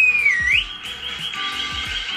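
A person whistles one clear sustained tone that sweeps down, then rises, and holds steady, loud and close, with a faint low tapping underneath and no speech.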